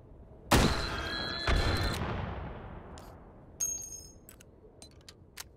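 A long-range weapon in the VR game Hot Dogs, Horseshoes & Hand Grenades fires two loud, booming shots about a second apart with long echoing decay, followed by a softer third report and faint distant clicks.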